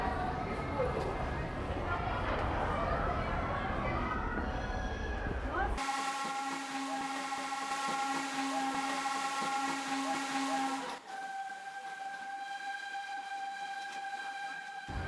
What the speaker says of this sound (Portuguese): Essa Maria Fumaça daqui de São João del Rei, ela tem essa peculiaridade de funcionar desde a inauguração.